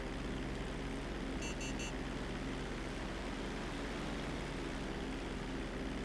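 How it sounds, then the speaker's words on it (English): Jet aircraft roaring past in GTA 5 Online, a steady loud broadband engine rush holding throughout, with a brief cluster of high-pitched beeps near the start. "It's the jet. We're trying to avoid him."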